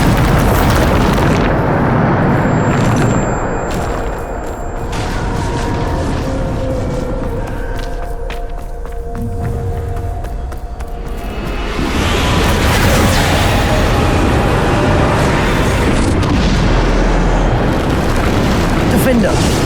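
Bombarda blasting spell explosions in the Hogwarts Legacy video game, loud rumbling booms and bursts with whooshing swells, filling the scene in heavy waves that dip briefly in the middle before surging again.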